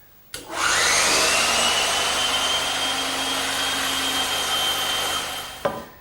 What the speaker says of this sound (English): why waste a bandsaw when it's right here in the shop?